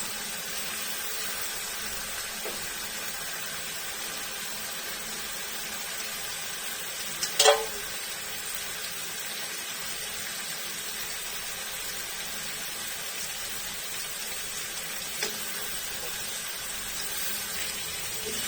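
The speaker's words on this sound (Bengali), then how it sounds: "তো মাছগুলো আমি ভালো করে নেড়ে চেড়ে নিচ্ছি মশলার সাথে" Prawns with their stems fry and get stirred with spices in a pan. A steady, soft sizzle carries throughout, with one brief louder clink or scrape from the stirring partway through.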